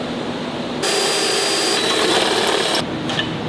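A power drill whines loudly in a sustained high burst while boring holes for a wiring modification on a Chevy truck, starting and stopping abruptly with no talk.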